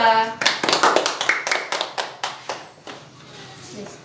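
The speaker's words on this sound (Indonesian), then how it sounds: "Beri tepuk tangan untuk kelompok 2." Elementary classroom pupils clap for a presenting group in a social studies lesson, a run of about a dozen sharp, rhythmic claps that fades into softer scattered clapping, preceded by a brief voice.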